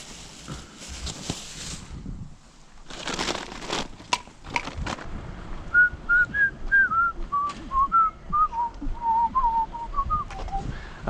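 Wavering, slightly off-key whistled melody of short notes, preceded by scattered knocks and rustles, with no talking.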